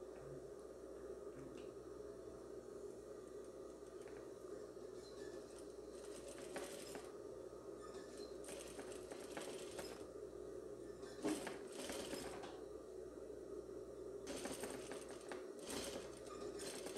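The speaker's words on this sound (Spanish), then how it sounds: "voy a pasar aquí una costura al filo, en la orillita del forro, tanto en el escote como en la sisa" A sewing machine runs steadily, stitching an edge seam along a dress lining at the neckline and armhole. Its close, continuous mechanical hum carries on without talk, with a few brief louder clicks and shifts in pace.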